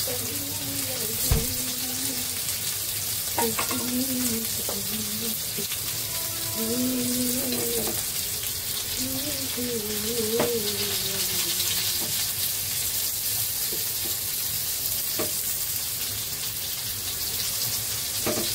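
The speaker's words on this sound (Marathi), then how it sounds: "बघा मस्त बोंबील फ्राय" Bombil, Bombay duck fish, frying in a pan, a steady broadband sizzle running throughout with occasional clinks and scraping, while a voice speaks intermittently over it.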